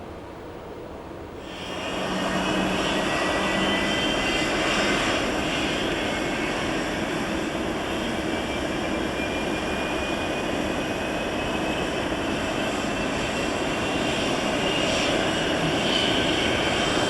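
A Boeing 767-300ER's right jet engine starts up: a low rumble swells after about two seconds into a steady, loud roar with a rising whine, holding close and constant with no talk over it.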